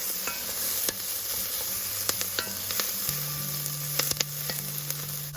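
A few garlic cloves sizzle in a pan with a loud continuous crackling hiss, punctuated by repeated sharp clicks and scrapes of a utensil stirring, with no talking.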